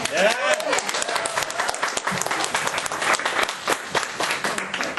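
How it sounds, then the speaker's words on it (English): Lively audience applause rises at a university entrepreneurship event, many hands clapping steadily with a few voices mixed in among the claps. "can we have an applause for them too?"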